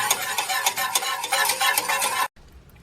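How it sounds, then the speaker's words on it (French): Egg mixture being stirred steadily in a pot as it cooks and thickens, a continuous close scraping and swishing with a faint sizzle, ending abruptly into near quiet. "j'incorpore le mélange à l'œuf sans cesser de remuer pour éviter toute coagulation"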